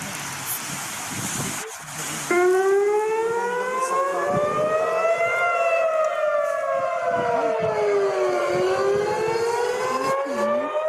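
A wailing civil defense siren rises and falls in long sweeping tones, loud and steady, starting abruptly after a brief stretch of rumbling background noise.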